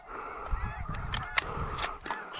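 Snow geese honking over a hunting field, a dense, continuous chorus of overlapping calls from a large flock, fairly distant, with a few louder honks standing out and no talking.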